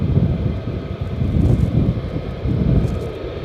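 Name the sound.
military jet taking off at RAF Lakenheath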